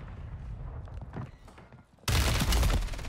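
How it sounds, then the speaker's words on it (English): Gunfire in Warzone 3 crackles quietly at first, then erupts abruptly into a loud, sustained burst of rapid shots and blasts close by. "Who's shooting at me?"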